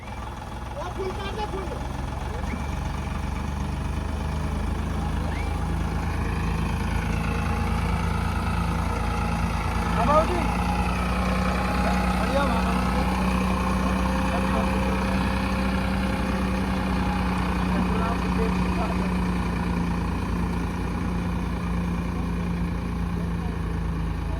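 A tractor engine drones steadily while pulling a Mahindra Bolero stuck in a muddy field after a hailstorm. The low, sustained idle-like rumble runs throughout, with voices talking over it.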